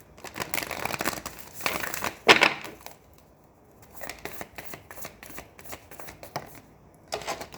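Tarot cards are riffled and shuffled in several quick bursts, crisp papery flutters with short pauses between, fairly close and quiet.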